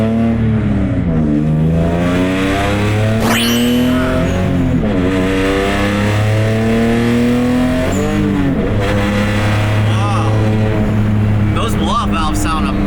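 A sports car's exhaust roars as the engine is revved repeatedly, rising and falling pitch sweeps close by, with a blow-off valve and people talking over it.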